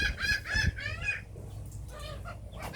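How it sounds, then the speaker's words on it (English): Loud, excited bird calls from outdoors near a Craftsman mower, a rapid run of harsh repeated cries that breaks off, then a few more scattered calls over a low background rumble. "I just want to show you seagulls right quick because they're going crazy."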